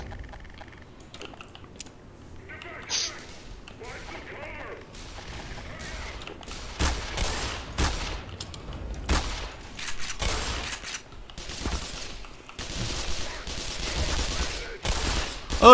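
Gunfire in the Black Mesa video game, a run of sharp shots scattered through the clip that grow denser and louder toward the end, mixed with other game noise and someone talking.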